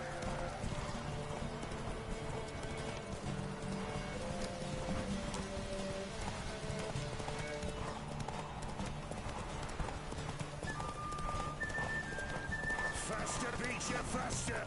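Hoofbeats of Roach, the horse in The Witcher 3, gallop in a steady rapid clip-clop throughout, loud and continuous over a busy background of game music and ambience.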